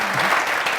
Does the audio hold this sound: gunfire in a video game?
no